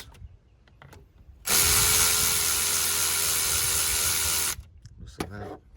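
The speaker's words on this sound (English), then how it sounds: "if you guys don't have an electric ratchet, I really suggest getting one." An electric ratchet spins for about three seconds in one loud, steady burst, loosening a bolt on a 6.0 Powerstroke diesel engine during an intercooler pipe install; faint shop noise comes before and after.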